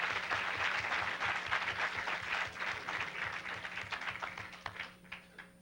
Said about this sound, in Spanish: Bríndeme un aplauso, por favor.